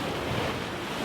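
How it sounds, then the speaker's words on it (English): A large ocean wave surges into a 20-foot-deep natural hole on the rocky Oregon coast, a broad rushing wash of water with wind rumbling against the microphone, constant and fairly loud. "here comes a massive wave. So watch it fill up and immediately go down."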